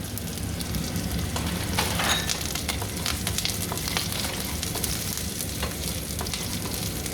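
Curry leaves fry in oil for Chettinad-style vendakkai mandi, giving a steady dense crackling sizzle throughout with light stirring clicks on top.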